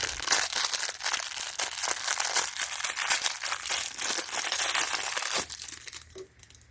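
Plastic packaging for Teflon tape from a garden hose kit is crinkled and torn open close up, a dense run of crackling rustles that tapers into softer handling near the end.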